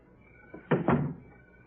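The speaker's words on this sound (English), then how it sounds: "Close the door." A door closes with two close, solid thumps in quick succession, the second slightly longer, in a quiet room with faint background hiss.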